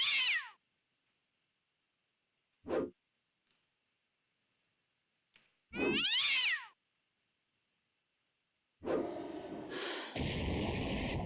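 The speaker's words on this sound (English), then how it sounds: "How can one cat make so much noise?" A cat in the Ultima Online video game meows several times with long silences between, the calls short and clear, followed by a burst of louder noisy game sound.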